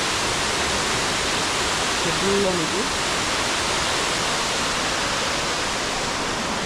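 Elephant Falls near Shillong pours in a steady, broadband rush that stays even and unbroken throughout, heard from a distance with a brief spoken remark in the middle.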